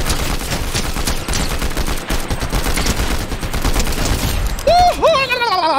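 Automatic gunfire in Battlefield 2042, a dense, continuous rattle of rapid shots held without pause, loud and close, with a rising, wavering electronic whine entering near the end.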